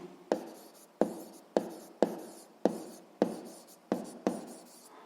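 Pen strokes writing a physics answer on paper, eight sharp scratchy onsets each trailing off, close and alone with no talk.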